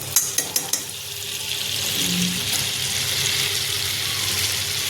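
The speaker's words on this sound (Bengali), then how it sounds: "তেল গরম হয়ে গেছে দিয়ে দিচ্ছি একটু বাটার" Butter added to hot refined oil in a wok for jeera rice, a few sharp clinks at the start, then a steady broadband sizzle that swells and holds loud and close to the end.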